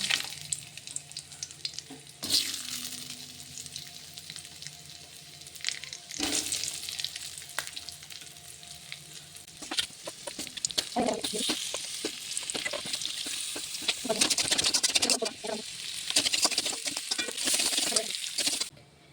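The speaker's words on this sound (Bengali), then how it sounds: "ওই তেলে আলুগুলো দিয়ে দেবো" Potatoes frying in hot oil for a Bengali bitter gourd and potato fry: a quiet start, then a loud, dense, crackling sizzle that fills the second half, with faint stirring scrapes and no talking.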